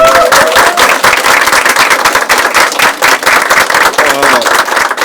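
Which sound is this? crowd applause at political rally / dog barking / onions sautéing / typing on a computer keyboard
crowd applause at political rally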